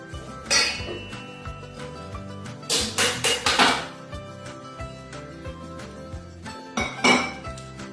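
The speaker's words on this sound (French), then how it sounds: "on va mélanger le beurre, la farine" Butter and flour being mixed for sweet pastry dough, with a few bright clattering bursts of utensils knocking against a bowl, separated by quieter stretches with no talking.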